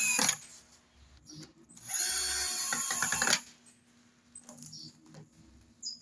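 A power drill drives screws into a wooden bathroom cabinet during assembly, with one sustained whirring burst of about a second and a half between short bursts and quieter handling noises, without talking.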